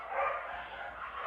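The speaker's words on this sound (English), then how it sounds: "they're dogs, and they're probably barking about someone probably just got home" Dogs barking somewhere away from the house, a short, faint burst of yaps and yips heard at a distance with no one talking.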